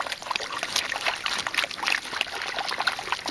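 Water sloshing and trickling as sediment is swirled and broken up in a gold pan, a steady close-up wash of wet gurgles with small splashy bursts throughout.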